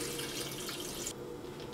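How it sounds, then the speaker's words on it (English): Cold water pours into a Bunn Speed Brew Classic coffee maker, a steady close splashing stream that thins to a softer trickle near the end. "we're going to pour in 10 cups of cold water"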